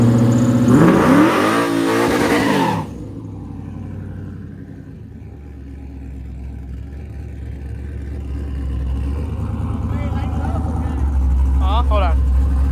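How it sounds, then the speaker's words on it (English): A 1998 Camaro with an LS1 engine revs hard in first gear at the start, then settles into a steady idle-like rumble and low drone, with voices talking over it toward the end. "do a rolling sitting burnout, second gear, and then roll out"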